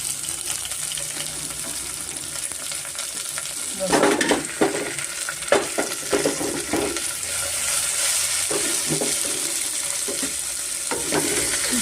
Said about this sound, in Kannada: ಸ್ವಲ್ಪ ಎಣ್ಣೆಯಲ್ಲಿ ಸ್ವಲ್ಪ ತರಕಾರಿಗಳೆಲ್ಲ ಚೆನ್ನಾಗಿ ಫ್ರೈ ಆಗಲಿ